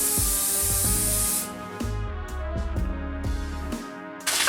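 Hairspray hissing onto a styled updo in a long continuous burst, loud and close, then cutting off, followed by quieter handling sounds and a brief second hiss at the end.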